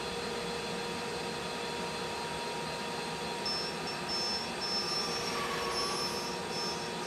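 A ShopSabre CNC router cuts 3/4 inch material in a single pass with a 3/8 tool at 2,000 inches a minute, a loud, continuous high-pitched machining whine and roar that holds steady throughout with no talking.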